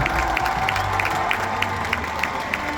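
Audience applause after a small-pony quadrille at the Tallinn International Horse Show, a steady, dense wash of clapping from a large crowd with occasional sharper claps standing out, continuous throughout.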